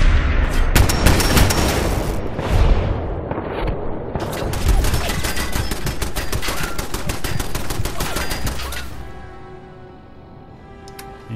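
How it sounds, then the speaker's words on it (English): Gunfire in Fallout 4: dense rapid bursts of shots crackle almost without a break for several seconds, loud and close, with brief pauses between volleys before fading to quieter ambience. "Oh, someone's shooting at me."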